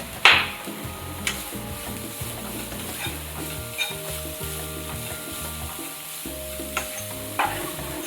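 Prawn masala fries in a pan with a constant close sizzle, broken by occasional clinks and scrapes of a spoon stirring against the pan.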